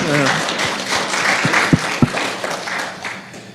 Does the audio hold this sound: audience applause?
yes